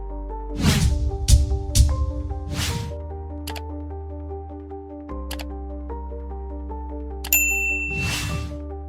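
Bright notification bell dings ring out several times in a sparse, irregular pattern, each strike clear and close with a shimmering decay over a sustained tonal musical bed.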